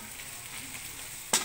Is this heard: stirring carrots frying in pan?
yes